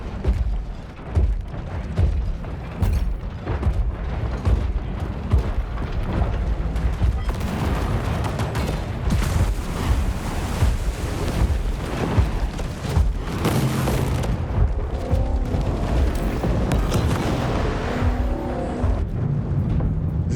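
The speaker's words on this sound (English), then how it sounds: "These cannons really hurt when they hit." Heavy cannon hits and rapid gunfire from giant robots in War Robots: Frontiers, with continuous booming impacts and bursts under a loud, chaotic battle din, and brief talk in places.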